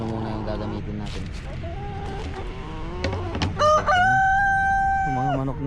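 Chickens cluck and a rooster crows loudly nearby, the crow rising in long drawn-out notes near the end.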